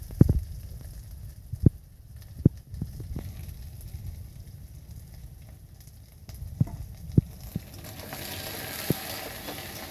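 A little oil sizzles in a pan while cooking a Bengali chicken curry with potato, a steady close crackling hiss broken by sharp pops and clinks.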